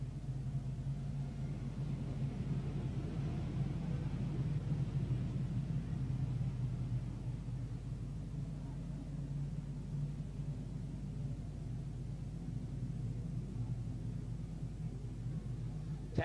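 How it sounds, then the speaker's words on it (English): Race cars at a Newcastle sprint meeting circle the track behind a departing pace car, a steady distant engine rumble with broadband road noise that holds evenly throughout, with no voices. "Pace car leaves the circuit."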